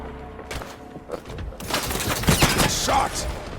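Gunfire in the video game HighGuard: a rapid fusillade of sharp shots and thuds over about two seconds, loud and dense, with brief quieter moments before it.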